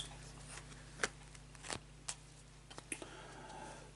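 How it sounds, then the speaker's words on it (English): Playing cards are shuffled close up in a quiet room, a run of soft riffles and sharp flicks and taps scattered irregularly over a faint background hum. "And as we shuffle the cards"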